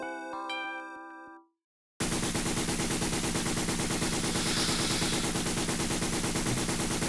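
Rapid chiptune gunfire from the PC-88 game Target Wave, a dense, steady stream of shots running continuously for about five seconds after a brief synth jingle and a moment of silence.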